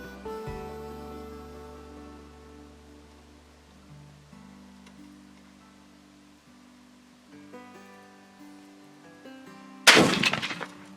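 A hunting rifle fires once on the prairie, a single loud, sharp crack near the end that follows a long, quiet stretch of steady background tones.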